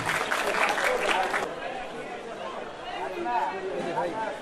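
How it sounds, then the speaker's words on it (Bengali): Audience applause greets a guest at a Durga Puja pandal in Shaheen Bagh, a burst of clapping for about a second and a half that gives way to crowd murmur and talking voices. "আমরা সবাই করতালি দিয়ে স্যারকে স্বাগত জানাই"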